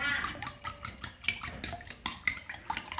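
Eggs whisked briskly in a bowl with a fork or spoon for Jaffna-style egg paratha, rapid rhythmic clinks and sloshes against the bowl, close and steady, with a voice talking faintly now and then.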